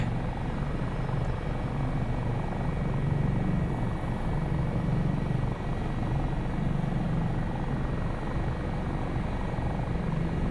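An AS365 Dauphin helicopter flying in Microsoft Flight Simulator 2024 produces a constant, dense rotor and turbine drone, loud and steady for the whole stretch with no voices.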